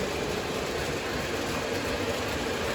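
A small model train locomotive with two motors pulls a line of rolling stock, giving off a steady, dense whirring rumble that holds at one level throughout.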